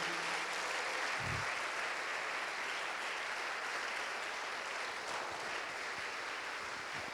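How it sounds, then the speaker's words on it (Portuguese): A church congregation bursts into a sustained round of applause at a service, dense steady clapping that stays full and even across the whole stretch with no voices rising above it. "Dê uma forte salva de palmas em nome de Jesus"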